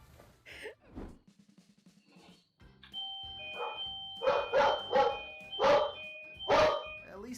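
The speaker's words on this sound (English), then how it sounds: "At least they rang the doorbell instead of just walking in." A two-tone doorbell chimes repeatedly while a dog barks in loud, sharp bursts close by, with a few faint sounds just before the ringing starts.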